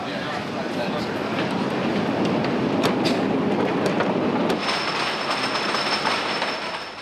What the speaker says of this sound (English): Till the train goes around the track